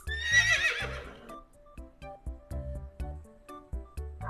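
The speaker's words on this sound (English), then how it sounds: "Horse." A horse lets out a loud whinny that rises and then trails off over about a second, followed by a steady run of soft clip-clop hoofbeats.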